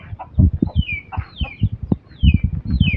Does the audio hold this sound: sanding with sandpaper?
no